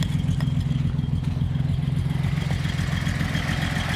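A project car's engine runs rough with weak ignition, a loud, close, uneven idle with clattering, lumpy pulses continuing steadily throughout, no talk.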